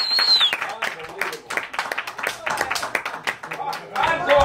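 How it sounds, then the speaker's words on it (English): A live audience at a playhouse show claps in a dense, steady round of applause, the sharp patter of many hands filling the room while voices carry over it. "Give them a round of applause."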